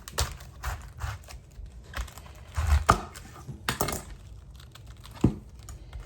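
A knife slices through a small, already washed head of cabbage for coleslaw. The result is a few crisp chops and crunchy thuds against a board, close and fairly quiet, with scattered small clicks in between.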